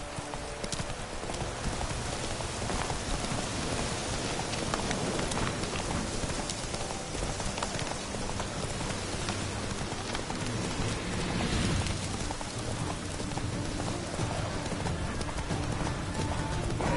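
Horse galloping through rain in The Witcher 3 video game: fast, unbroken hoofbeats close and loud, blended with a dense hiss of rainfall throughout.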